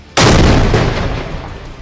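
An army bomb explodes in one sudden loud blast, then a broad rumbling roar slowly fades over the next second and a half.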